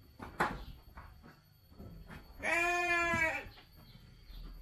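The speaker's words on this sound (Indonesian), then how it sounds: "Nah, kita lihat kambing-kambingnya ini." A Saanen goat lets out one loud, wavering bleat partway through, set among quieter shuffling and faint rustling sounds in a goat pen.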